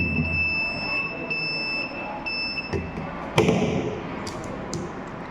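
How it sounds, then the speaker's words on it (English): An ultrasonic sensor train navigator project sounds its buzzer in a steady, thin, high electronic tone that holds for a few seconds, then stops, followed by scattered clicks and knocks. "In ultrasonic sensor, 25 and 30 centimeters in front of any object, the buzzer will sound."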